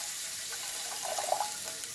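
A cup of water is poured into a hot pan while making chicken and dumplings, giving a steady close hiss and splash with a few brief bubbling peaks and no talking.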